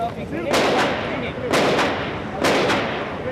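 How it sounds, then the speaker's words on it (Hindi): Bursts of continuous gunfire during the 2008 Mumbai terror attack ring out in quick pairs, about three bursts in a few seconds, loud with echoing tails over a noisy outdoor background. "लगातार फायरिंग हो रही है"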